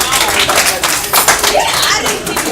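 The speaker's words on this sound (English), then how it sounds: "Give him a round of applause." Applause from a small audience at a community meeting, a dense, close burst of clapping with some voices mixed in, fairly loud throughout.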